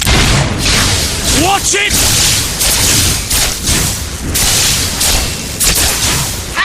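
Gunfire from a traitor in the Fable 3 video game crackles as a dense, loud barrage of shots and booms throughout, with shouted voices over the din.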